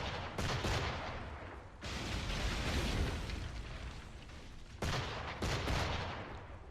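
Naval battle in Assassin's Creed IV, a dense roar of cannon and gunfire with booming volleys and sustained broadband rumble, loud and continuous with sharper bursts near the end.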